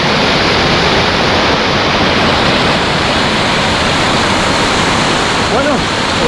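Loud and close, the waterfall at the Montejaque dam in Spain pours down in an unbroken, full-bodied roar of rushing water, with a faint voice briefly audible near the end.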